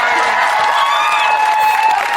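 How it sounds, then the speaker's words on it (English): Studio audience clapping and cheering on a Big Brother companion talk show, a loud, dense, sustained burst of applause with whoops and voices mixed in. "Clap for the nose, everyone!"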